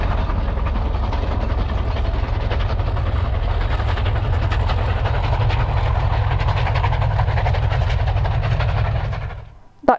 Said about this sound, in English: That train had just passed through the station at the Bridge of Orkney.